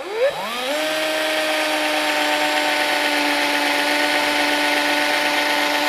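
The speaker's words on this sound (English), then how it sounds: "they still actually have a good enough tip that they'll drill, as you guys can hear" A power drill driving metal screws spins up with a rising whine, then holds a steady high-pitched drone for several seconds, loud and close, at an off-grid cabin.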